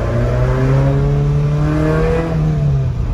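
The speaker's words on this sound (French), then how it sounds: "on a passé les rapports à 7700 tours à peu près" High-revving car engine climbing through the gears toward about 7700 rpm, a strong continuous drone rising in pitch with brief dips at each shift, loud and close with no voices.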